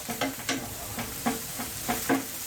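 Onions sizzle in a pan as they brown while a utensil stirs them, giving a steady frying hiss broken by repeated scraping strokes roughly every quarter to half second, close and clear with no talking.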